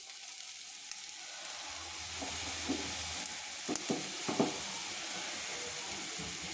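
Small fritters of ground prawn heads sizzle in hot oil in a wok, a steady close frying hiss with a few scraping stirs and soft spatters and no talk.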